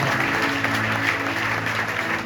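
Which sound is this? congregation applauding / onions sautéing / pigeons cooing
congregation applauding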